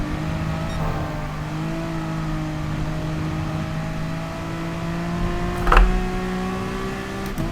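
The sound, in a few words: race car accelerating on wet Spa track, Gran Turismo Sport video game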